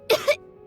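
A character in the video game Genshin Impact gives two quick, close coughs in succession, followed by quiet.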